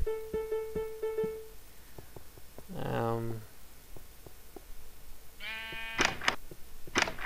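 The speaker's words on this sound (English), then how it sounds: "Right click to get the wool from a sheep" Several bleats from sheep in a blocky Minecraft-style video game (Beta 1.7), short repeated calls spread through the clip among soft clicks and other game sounds.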